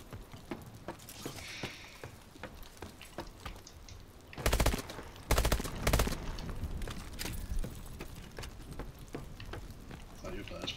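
Semi-automatic gunfire in Call of Duty Advanced Warfare Exo Survival mode, a run of sharp close shots in quick bursts over game ambience, with players talking throughout.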